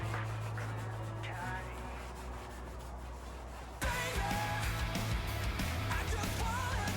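A rag or cloth rubs grease off the surface of a flywheel during a clutch and gearbox install on a project car. The scrubbing is steady and continuous, grows noticeably louder and busier halfway through, and sits over a low background hum.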